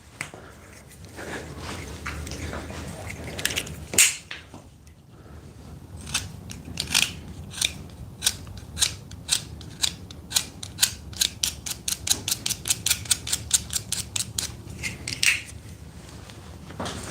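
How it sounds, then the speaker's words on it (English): A pencil is sharpened by hand at a carpentry workbench, giving a close, rhythmic run of crisp scraping clicks that starts sparse and then speeds into a quick, steady series, with no talking. "gotta sharpen my pencil."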